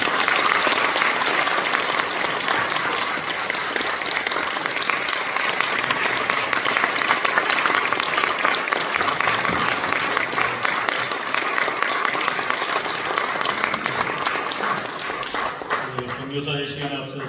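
Sustained applause from a church assembly audience fills the room steadily and loudly, dense clapping that fades near the end as a voice begins over it.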